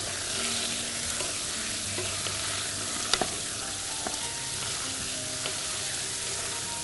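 Chicken and liver stirred in a frying pan, with a steady close sizzle throughout and a few sharp clinks of a utensil against the pan near the middle.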